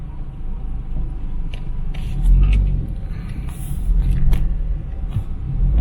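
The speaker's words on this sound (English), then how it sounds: "go through the city traffic" Steady rumble of a car moving through city traffic in the Philippines, with engine hum rising and falling as it waits and pulls away, other vehicles passing close by.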